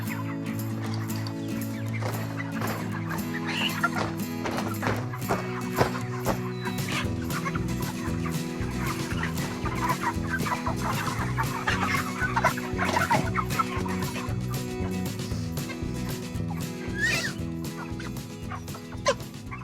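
Chickens and other fowl on a chicken farm clucking and squawking continuously at close range, a busy overlapping chorus with occasional sharper calls and no voices.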